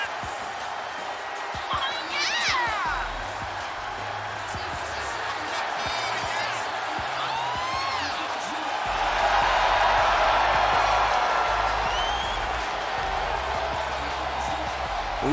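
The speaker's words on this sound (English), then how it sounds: "Listen to this ovation." A large arena crowd cheers and roars through a wrestler's entrance in WWE 2K24, with the noise swelling louder midway, mixed with entrance music and commentators talking over it.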